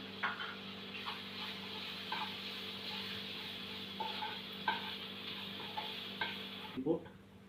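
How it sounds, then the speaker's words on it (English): Green chilies with Kashmiri red chili powder and salt sauteing in a pan, soft steady sizzle under repeated light scrapes and taps of a spoon, then a brief clatter at the end. "Saute for some time."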